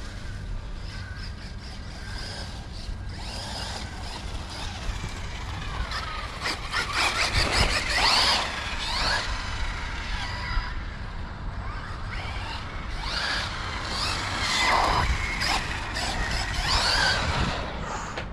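A small Losi RZR Polaris RC car drives over grass, its electric motor whining and rising in pitch in bursts, with scuffs and clatter as it tumbles and flips.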